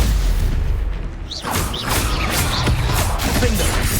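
A Stupefy spell strikes in Hogwarts Legacy with a booming, crashing impact, followed by a scatter of sharp magical bursts and clatter in a busy combat mix.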